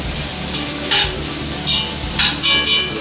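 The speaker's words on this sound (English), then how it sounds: "I got my onions and my jalapenos getting a nice saute on themselves." Onions and jalapenos sautéing in a pan for tortilla soup, a constant sizzle punctuated by several louder bursts of stirring and scraping.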